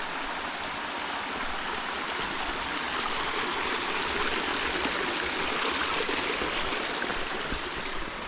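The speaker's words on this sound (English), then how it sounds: "Beautiful waterfall there." A stream and waterfall on the Appalachian Trail make a loud, steady rushing roar, with continuous close-up water flow that holds at an even level throughout and has no talking over it.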